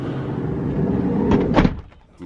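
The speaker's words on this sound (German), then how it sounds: "Dann machen wir die Tür mal zu." A sliding side door on a VW T6.1 California Ocean camper van rolls and thuds shut, a single close with a short rattle and clunk near the end, heard up close over a low background rumble.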